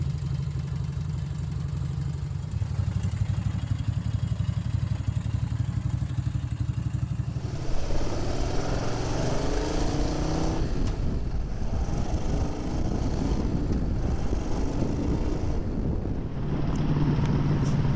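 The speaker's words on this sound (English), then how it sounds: "So today we're on my Moto Guzzi Lemans. It's a 1979 Mark II." A red 1979 Moto Guzzi Le Mans 850 Mk2 motorcycle runs steadily on a ride, its engine note loud and continuous, mixed with heavy wind rush and road noise.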